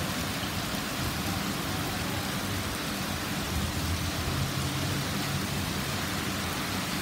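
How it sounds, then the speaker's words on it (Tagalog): A continuous, heavy downpour in Al Rigga, Muraqqabat, Dubai hisses evenly throughout, with a soft low rumble underneath and no voices. "Yun pala at malakas ng ulan"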